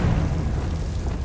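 Confringo spell explosion in a Harry Potter video game: a dense, low rumbling blast that roars steadily for over a second with a heavy bass boom and no voices.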